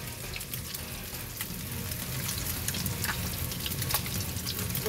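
Minced meat fries in a pan for ragù bolognese, giving a steady, close hiss and crackle of sizzling with faint stirring and no voices.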